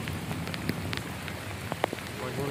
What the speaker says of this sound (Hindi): बहुत बारिश आँधी पई है।